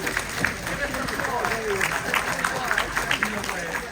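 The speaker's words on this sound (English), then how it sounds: "give them applause" Applause from a roomful of about 250 guests at a Purim party, a continuous crowd clapping sound with voices and chatter mixed through it.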